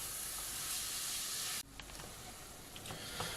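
Meat browning in a frying pan: a steady, fairly quiet sizzle and hiss that drops slightly partway through, with faint scraping as it is stirred.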